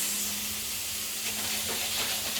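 Potatoes, peppers and onions fry in a pan with a continuous close sizzle and light crackle that thickens slightly toward the end, with no voices.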